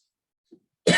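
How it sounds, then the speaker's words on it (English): A single short, sharp cough bursts out close by at the very end, after near silence. "I'm gonna cough again."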